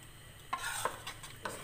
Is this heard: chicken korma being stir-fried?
yes